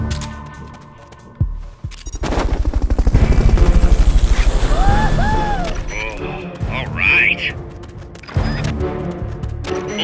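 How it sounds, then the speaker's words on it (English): A helicopter in the Metal Gear Solid Peace Walker video game arrives for a Fulton recovery, its rotor building into a loud, steady thrum with game effects and radio-style voices over it before fading. "Fulton recovery subject confirmed onboard helicopter"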